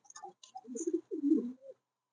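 A Lakkha pigeon gives soft, close cooing in two short runs, alone in an otherwise quiet space.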